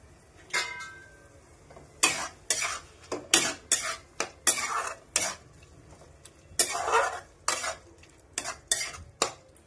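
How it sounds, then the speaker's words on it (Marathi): A spoon stirs a curd mixture in a hot pan, scraping and clinking against the metal in quick irregular strokes, close and sizzling faintly, with no one talking. "हे बघा मी दही टाकलंय, आता असं मस्त पटापट हलवून घ्यायचं"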